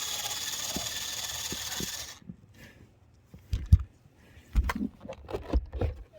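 Ratchet wrench clicking while a blower motor is removed from a Chevrolet Malibu, steady mechanical hum at first, then irregular bursts of close ratcheting clicks and knocks.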